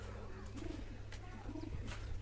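Soft pigeon coos repeat twice, gentle and low, over a steady background hum at close range.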